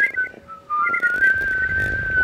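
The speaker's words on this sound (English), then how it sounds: "Me whistle." A person whistles a melody close by on a balcony, the clear tone holding as sustained notes over some background noise.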